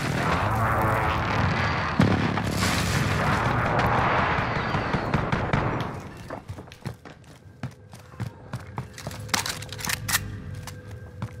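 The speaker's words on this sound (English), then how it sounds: "Enemy precision airstrike. Take cover." Enemy precision airstrike explosions in Call of Duty Modern Warfare: a rolling, roaring blast rumble that builds and fades, followed by scattered sharp cracks and impacts, loud and fairly close.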